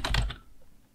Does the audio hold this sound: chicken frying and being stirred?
no